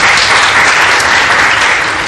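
Steady, dense applause from a crowd, loud and continuous throughout with no pauses.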